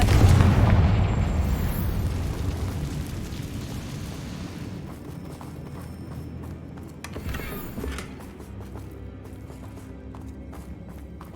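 Confringo blasting spell in the Hogwarts Legacy video game: one loud booming explosion at the start that rumbles and decays over several seconds, followed by a smaller thud.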